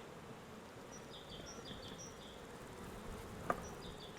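Honeybees humming around a hive, including a queenless colony: a faint, steady buzz of many insects with occasional individual bees flying close by, all at low volume.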